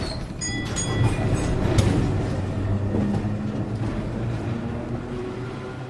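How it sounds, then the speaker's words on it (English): A tram ride into Broadway, with continuous rumbling rail-vehicle noise, a few brief metallic squeals and clanks near the start, and steady low running noise throughout. "Then he left the office and took a tram to Broadway."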